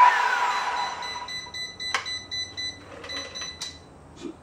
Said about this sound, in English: this thing will beep and go into overload protection